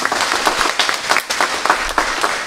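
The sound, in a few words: audience applause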